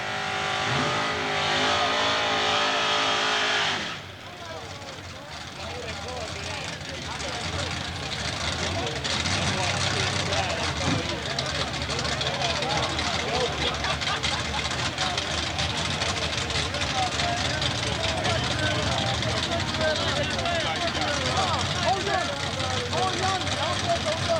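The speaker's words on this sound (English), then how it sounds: "The 500 small block Chevrolet Power Dragster near lane 581." A 500 small-block Chevrolet-powered dragster races at a drag strip, a loud, sustained engine roar filling the clip with an announcer talking over it.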